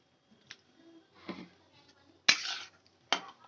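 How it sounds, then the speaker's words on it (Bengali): Water splashes into a hot pan of spicy pomfret fish curry over a gas flame, giving one loud hissing sizzle and then a shorter second burst. Soft clinks come before it, with no voices. "আর পরিমাণ মতো জল দিয়ে দেব"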